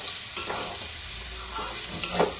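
Red lentils sizzle and crackle in a pan, with spatula scrapes and stirring knocks over a constant frying hiss and no voices.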